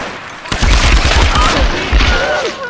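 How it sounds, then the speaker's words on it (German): Rapid bursts of gunfire in the video game Tomb Raider, a dense volley of loud overlapping shots and booms that runs steadily through the whole moment. "Die schießen ja wie aus vollen Rohren."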